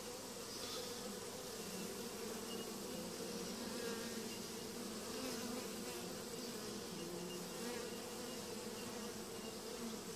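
Honeybees feed on honey on a fingertip, their close, continuous buzzing drone holding steady throughout.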